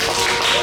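A brief burst of congregational applause during a Christmas Sunday church service, dense close clapping throughout.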